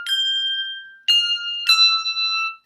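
Handbells ring a melody with doubled notes, three clear struck tones, each chiming bright and sustained before fading, the second and third following close together, with no talk.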